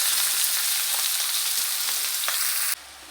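Boiled cabbage and potato, added to fried onion and chili, frying in a pan, with a steady broadband sizzle throughout that drops suddenly to a quieter hiss near the end, plus a few light stirring clicks and no talking.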